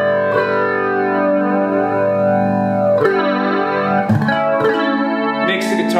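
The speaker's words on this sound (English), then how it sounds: "It's also got flange," Electric guitar sustains chords through a Roland Cube 30 amplifier with its flanger engaged, producing a continuous sweeping, tunnel-like whoosh over the ringing strings, fairly loud with a few new strums.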